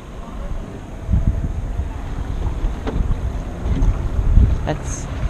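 Wind buffets the microphone on a small boat on a lake while water sloshes and thumps against the hull in uneven bursts, rumbling and fairly close.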